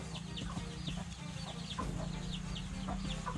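Backyard village chickens, breeding hens in a homemade semi-free-range coop, cluck in quick, overlapping bursts close by, steady and busy without pause.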